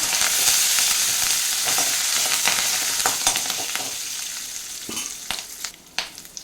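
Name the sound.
stirring green chilies and curry leaves frying in a pan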